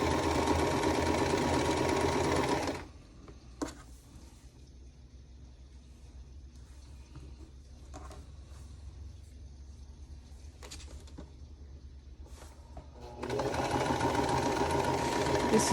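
A sewing machine stitches quilt blocks for a vintage spool-and-bobbin pattern in two loud, steady runs at the start and end, with a quieter pause between holding faint clicks and room noise.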